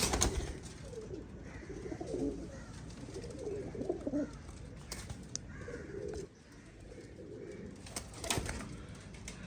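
Baby pigeons of the Teddy breed coo softly in low, murmuring bursts, with faint chirps and a brief flutter of wings close by.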